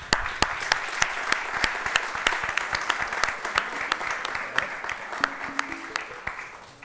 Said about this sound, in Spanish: Podemos dar un aplauso por todos los autores.